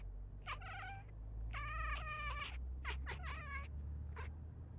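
A pet cat meows repeatedly in short, tonal calls, several separate cries spread across the stretch, close and fairly clear over a steady low hum, with no talking.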